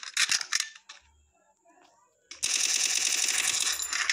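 Video game gunfire: a short cluster of loud shots opens, then after a quiet stretch a long rapid automatic burst rattles on steadily to the end.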